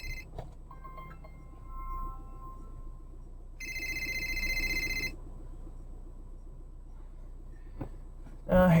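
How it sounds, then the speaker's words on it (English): A mobile phone rings with an incoming call inside a truck driving off-road at Big Cypress Bear Island. A single bright ring burst of about a second and a half sits over low engine rumble, with faint talk nearby. "And I'm getting a phone call."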